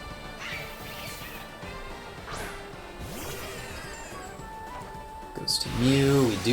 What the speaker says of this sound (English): We do hit gunk shot